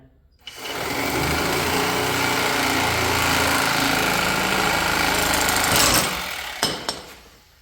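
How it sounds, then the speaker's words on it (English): A reciprocating saw cuts through the body bushing band of a 1988 Chevrolet K5 Blazer, clamped in a vise. It gives a loud, steady buzzing rasp for about five seconds, then stops, followed by a couple of sharp clanks. "I've always found what's easiest is just a sawzall or any type of recip saw. So we'll cut right on the band."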